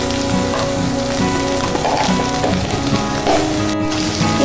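Ginger and garlic paste frying with onions in a pan, a steady dense crackling sizzle like rain on a surface, continuous and fairly loud throughout with no talking.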